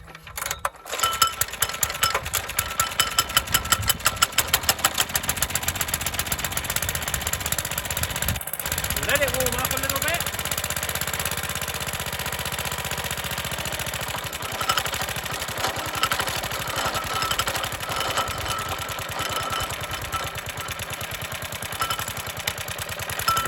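A small petrol engine on a grass-cutting machine sputters and catches after fuel gets through, then settles into a loud, steady chattering run that carries on for the rest of the clip, with one brief dropout partway.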